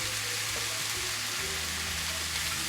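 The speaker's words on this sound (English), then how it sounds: "These are browning pretty quick." Precooked sausage browning in a hot pan, a steady broadband sizzle and crackle of frying fat that holds at a constant level throughout, with no voices over it.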